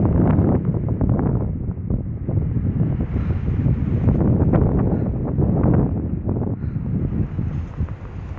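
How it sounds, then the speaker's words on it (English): Strong gusts of wind buffet a handheld anemometer outdoors among college campus buildings, a loud, continuous roar with surging bursts across several seconds, close to the microphone. "Here comes a good gust."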